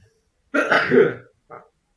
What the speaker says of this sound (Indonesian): oke, saya batuk.